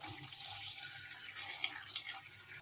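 Filtered water pours steadily into a stock pot of vegetables, a continuous hissing splash with no pauses that stays close and moderately loud throughout.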